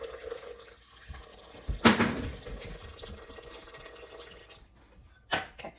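Warm water is poured into a bowl for sourdough bagel dough, giving a soft splashing pour with a brief louder gush near the middle and another short splash at the end, heard alone indoors.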